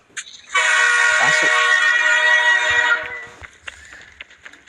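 Train in the Scarfall video game sounding a loud sustained horn for a few seconds, followed by quieter clanks and clicks of the moving train.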